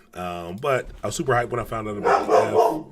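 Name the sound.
dog crying and barking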